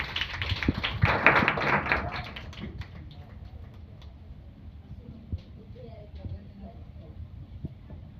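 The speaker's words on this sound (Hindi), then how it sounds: "तो सभी लोग कृपया करके शद्रक, मेशक और आबेदनगो के लिए जोरदार तालियों से उनका स्वागत करें।" An audience claps in welcome for guests at a Bible storytelling session, with a dense burst of applause in the first two seconds that quickly thins to scattered taps and faint background noise.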